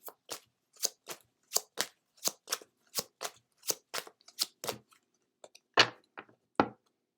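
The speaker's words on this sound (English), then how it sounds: "Next, we'll pull a card from the Moonology deck." A Moonology oracle card deck being shuffled, a quick series of about fifteen crisp riffling bursts in a steady rhythm, close and clear, then a pause and a few louder final snaps.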